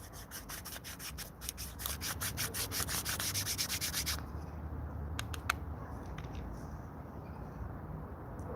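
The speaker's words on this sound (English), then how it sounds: "Go grind it up real quick." Cannabis being ground in a handheld herb grinder: rhythmic, close rasping twists for about four seconds, then near quiet with a few faint clicks.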